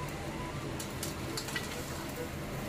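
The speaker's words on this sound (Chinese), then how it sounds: "锅内加入油，先下入干辣椒、花椒炝香" Dried chilies and Sichuan peppercorns fry in hot oil in a wok, giving a soft, steady sizzle with a few sharper crackles, fairly faint throughout.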